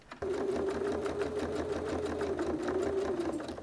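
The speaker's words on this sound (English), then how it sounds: "I'm going to change my foot of my sewing machine to a zipper foot." A sewing machine fitted with a zipper foot starts up and runs steadily, its rapid mechanical stitching hum close and continuous for a few seconds.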